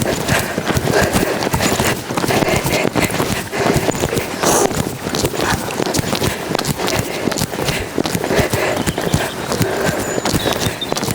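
A horse canters nearby, its hoofbeats drumming in a quick, rolling three-beat rhythm that stays steady and close throughout, with a constant rush of movement noise around them.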